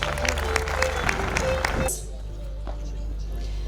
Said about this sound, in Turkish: Birincimizi alkışlıyoruz.